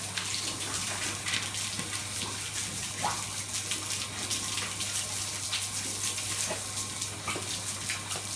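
Continuous splashing and running water, as if from a tub or faucet, fills the whole stretch at a moderate, even level, and no voices are heard.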